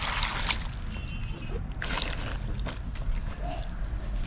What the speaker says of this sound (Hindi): सेम को ऊपर तक पानी डालेंगे और सेम और आलू को उबाल लेंगे।